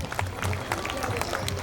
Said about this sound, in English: A round of applause for Sara ma'am